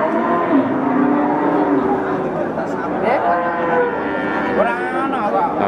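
Cattle low and moo repeatedly at Pasar Sapi Wage, a morning livestock market in Pati after rain, with several drawn-out calls over a dense crowd murmur and people chatting nearby.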